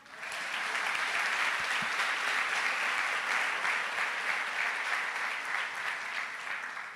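A church congregation applauds during a sermon, producing a loud, sustained wall of clapping that rises quickly and holds steady for about seven seconds before easing slightly at the end, with no voices heard.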